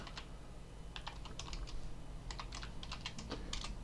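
Typing on a computer keyboard, light rapid clicks in short bursts with a firmer Enter key press, close and quiet over a steady background hum.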